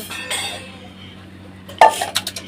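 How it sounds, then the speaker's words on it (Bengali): Plates and utensils being washed by hand outdoors in the sun, with a soft background hum, then a sharp clatter of dishes knocking together followed by several lighter clinks near the end. "আর এখানে দেখো আমার সব থালা বাসন ধুচ্ছি।"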